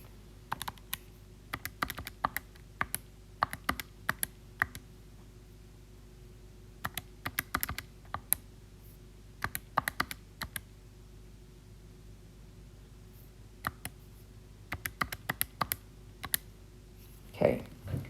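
Quick taps on calculator keys as numbers are entered, coming in irregular bursts of clicks over a low steady hum, close by, with brief speech in places.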